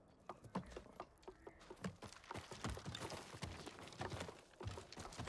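Horse hooves clip-clop in the Ghost of Tsushima video game, a run of irregular close hoof strikes on ground over a faint ambient bed, with no talk.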